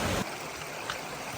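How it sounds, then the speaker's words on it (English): Justice Creek on the Appalachian Trail flows in a steady, close rushing wash of water that holds constant throughout, with no talk. "So we've come upon Justice Creek. We're about to cross it"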